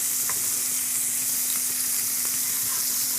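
Bacon fries in a hot pan for a cheeseburger, a loud, steady sizzle and crackle filling the space with a few faint pops and a low hum underneath, nearby and without voices.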